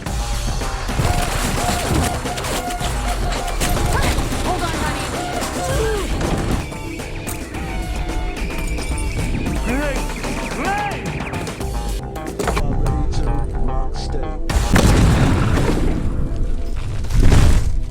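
An action film shootout between hired killers and their henchmen fills the scene with dense, rapid bursts of gunfire and crashing impacts layered over a loud, busy soundtrack, growing heavier toward the end.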